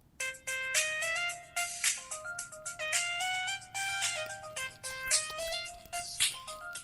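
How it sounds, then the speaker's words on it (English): The Verizon Wireless default ringtone plays on a 2008 LG EnV2 phone as a bright, looping electronic melody of quick repeated notes, moderately loud and alone for several seconds. "Verizon wireless default tone."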